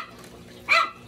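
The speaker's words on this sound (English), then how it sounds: "Ignore the dog, please." One short, close dog bark cuts through a quiet indoor room during a bird-cage unboxing, brief and moderately loud against faint background hum.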